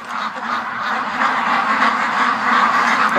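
A flock of ducks, including a Muscovy, quack and murmur together at close range in a continuous, busy chorus, with no clear pauses.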